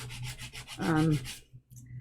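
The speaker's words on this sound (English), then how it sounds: "so I just end up using her file that was thrown out as my sanding block" A discarded nail file used as a sanding block rasps back and forth in a few quick, close strokes, then a brief pause before the scraping resumes.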